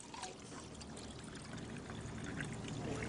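Kangen water poured onto oil during a demonstration, a soft steady pouring trickle that runs faintly for a few seconds with no talk.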